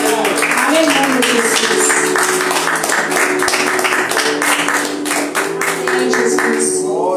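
A church congregation claps steadily and densely throughout, loud and close, while a worship leader speaks over the applause.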